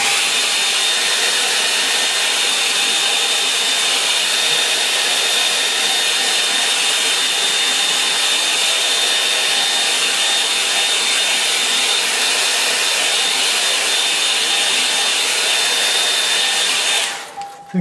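A hair dryer blowing steadily on a craft model, a loud, close, continuous whooshing roar that holds unchanged for about seventeen seconds and then cuts off, with no talking.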